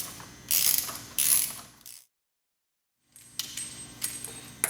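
A ratchet wrench tightens the hub nut on a VW MK4 steering knuckle with two quick bursts of rapid clicking, then a second of silence, then more ratcheting and metallic clicks close by.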